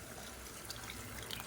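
Hot water poured into a pot of sautéed chicken for biryani, a steady close splashing and trickling pour that runs throughout the moment without speech.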